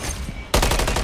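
Machine gun fire in Call of Duty Modern Warfare 3 multiplayer on the Rust map, starting abruptly midway as a loud, close, rapid rhythmic burst of evenly spaced shots after a quieter lead-in.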